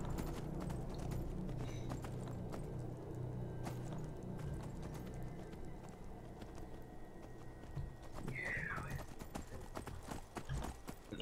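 Horse hooves clip-clop under a rider in the Skyrim video game, a continuous quiet patter of footfalls mixed into low game ambience, with a brief higher cry partway through.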